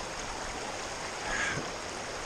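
Fast-flowing river water rushing over and around large rocks in a New Hampshire stream, a steady broadband wash with a slight swell midway, continuous and fairly close with no voices.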